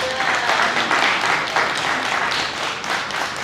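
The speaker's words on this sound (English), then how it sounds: "Can we give them a round of applause?" Applause from a crowd at a groundbreaking ceremony, a thick continuous patter of many hands clapping, steady and fairly loud with slight swells, the crowd all joining together.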